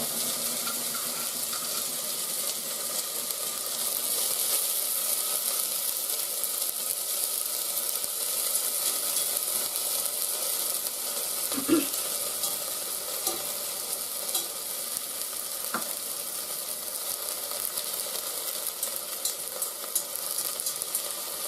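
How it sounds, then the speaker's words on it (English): Spring onions frying in hot olive oil in a pot, a steady close sizzle and hiss with occasional stirring scrapes, continuous throughout with no talk. "we put the spring onions in first and fry them up a bit"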